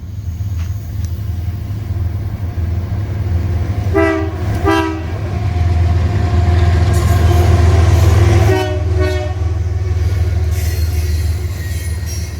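A train rumbles steadily past at close range while its horn sounds in several short and long blasts over the low roar of the wheels.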